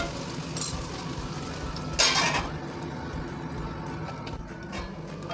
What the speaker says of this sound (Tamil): நெக்ஸ்ட் சிறிதளவு இஞ்சி பூண்டு பேஸ்ட்டு, அதுவும் பச்சை வாசனை போகிற வரைக்கும் நல்லா வதக்கிடணும்.